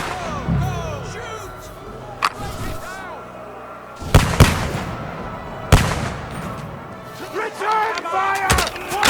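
Battle gunfire in Kingdom Come Deliverance 2, with several loud sharp shots and crashes going off irregularly amid shouting voices and the noise of combat.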